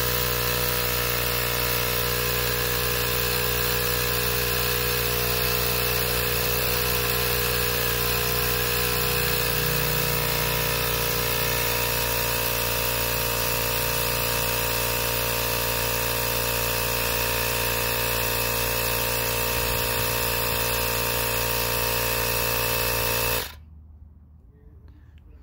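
A Ryobi power inflator pumps air into a tire, its steady, loud buzzing motor drone running continuously for over twenty seconds before cutting off abruptly into quiet.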